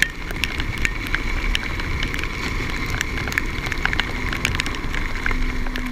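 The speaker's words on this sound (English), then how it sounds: "Plenty of rain on the 360 camera." Rain patters on a 360 camera during off-road e-scootering through wet Birches Valley: a dense, continuous crackle and tapping with steady wind rush and a low motor drone underneath.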